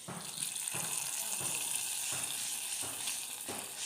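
Hot tempering hits a boiling curry with a continuous loud sizzle and hiss, a few soft thuds underneath, no voices.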